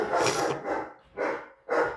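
A dog barks indoors during a livestream, three or four loud, close, rough barks in an uneven rhythm with short gaps between them.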